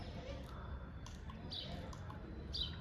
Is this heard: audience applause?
no